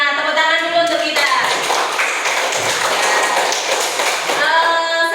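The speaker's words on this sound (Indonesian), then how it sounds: "Tepuk tangan dulu untuk kita." A fifth-grade class claps together in a dense, steady burst of applause lasting several seconds, with voices sounding at the start and end.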